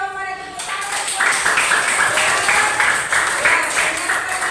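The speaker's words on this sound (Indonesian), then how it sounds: "Tepuk tangan buat" A school class claps for a student's answer, a dense burst of rhythmic applause from many hands in a room, continuing steadily.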